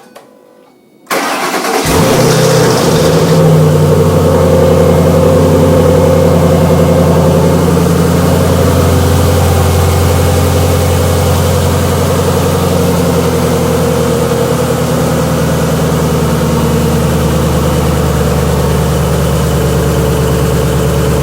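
A 2005 Ford Mustang S-197 with an exhaust leak cranks briefly and fires up, then settles into a loud, steady idle that rumbles continuously close by with no voices.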